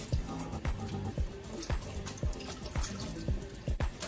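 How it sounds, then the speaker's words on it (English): Water draining out of a sink after the plug is pulled, during a wash of human hair wigs: a steady watery wash with faint repeated drips and trickles, fairly close and quiet, with no talking. "So we're just gonna unplug this now and let all the water out."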